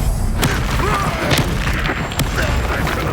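A Confringo blasting spell explodes in the Hogwarts Legacy video game, a loud booming burst layered over dense game effects and background rumble.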